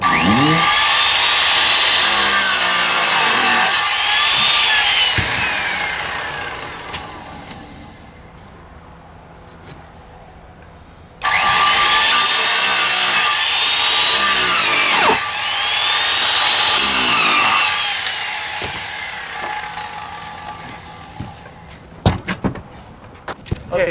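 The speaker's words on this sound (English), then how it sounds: "now that we made our little cut with a skill saw, we have a hole" A skill saw whines loudly in two long cutting passes, about four seconds each, as it cuts a pilot hole into a tile roof for chimney vent pipe flashing, with quieter pauses and clattering between passes.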